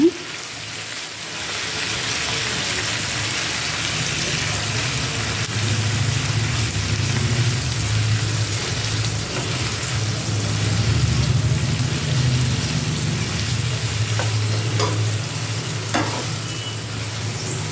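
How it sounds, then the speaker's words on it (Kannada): Cumin seeds frying in a pan for mint chutney give a loud, continuous sizzle and crackle with occasional stirring scrapes toward the end, close by with no voices. "ಇದ್ರ ಜೊತೆಗೆ ಸ್ವಲ್ಪ ಜೀರಿಗೆ ಹಾಕೋತಾ ಇದ್ದೀನಿ. ಒಂದ್ಸಲಿ ಫ್ರೈ ಮಾಡ್ಕೊಳ್ಳೋಣ."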